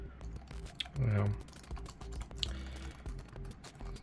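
Keys clatter on a Lenovo ThinkPad SK-8855 keyboard in a continuous run of soft, quick taps, with a brief low thump partway through.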